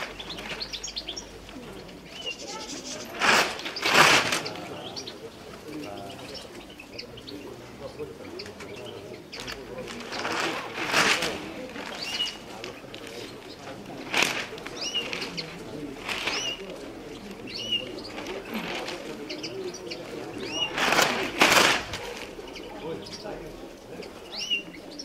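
Diving pigeons in Petrousa, Drama flap and take off in several loud bursts of wingbeats over soft cooing and chirps, with a voice talking now and then.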